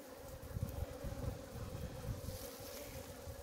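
Honeybees hum from an opened hive in September, a steady low drone with a faint wind rush over the microphone, alone and fairly quiet.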